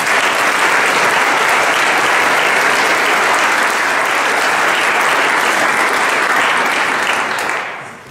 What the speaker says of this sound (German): Ich glaube, die verdient auch einen großen Applaus.